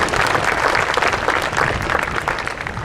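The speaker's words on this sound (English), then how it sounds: "Please give one more round of applause for our Class of 2019 valedictorian, Sam Glasgow." Applause at a high school graduation ceremony, a crowd clapping steadily and loudly throughout, a dense continuous patter with no break.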